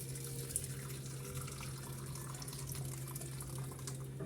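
Hot water poured for soaking, a steady close stream running continuously like a tap, with a low constant hum underneath and no talk.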